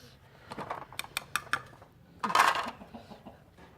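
Spices for shalgam (turnip) pickle, including fenugreek seeds, mustard seeds, ground chillies and turmeric, being stirred in a bowl, giving a run of brief scraping clinks and a louder rattling burst midway, close and without talk.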